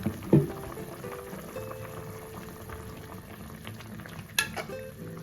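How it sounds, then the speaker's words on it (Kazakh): Meat broth bubbles at a steady boil in a pot as dough pieces are dropped in, a soft continuous burble with a light splash at the start and a clink of a utensil later. "Енді қайнап тұрған сорпаға бетіне саламыз."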